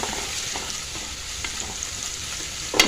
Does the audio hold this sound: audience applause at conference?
no